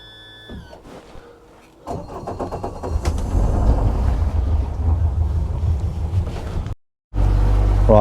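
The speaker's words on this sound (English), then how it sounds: "let's get the engine down and we'll get round there" An outboard engine on a small fishing boat leaving a harbour starts up and runs as a loud, steady rumble mixed with wind buffeting the microphone, briefly cutting out before resuming.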